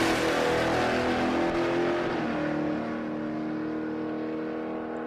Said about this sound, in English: Brenton Wilson back in the Commodore Ute.